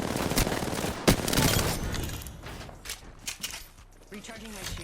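Automatic weapon fire from a shooter video game, Apex Legends, rattling in bursts with sharp individual shots in the first half, then thinning to scattered quieter pops amid game effects.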